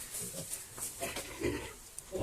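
Three-week-old piglets grunt and squeal softly in overlapping snuffles, close by in a barn, with no talking.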